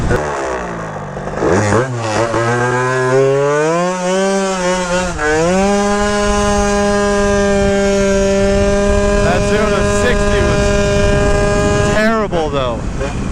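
A 94cc Malossi RC-one race engine screams up to about 12,000 RPM, its tone climbing steeply, then holding a loud, steady high-revving note with brief dips and re-revs near the end.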